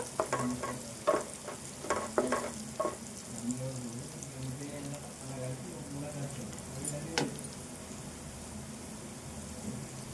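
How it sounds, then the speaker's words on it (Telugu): Onions frying in a pan of oil for a ivy gourd curry, with a soft, steady sizzle, scraping and stirring clatters early on, and one sharp metallic clink near the end, fairly quiet and close. "ఉల్లిపాయ వేగాలి ఇప్పుడు"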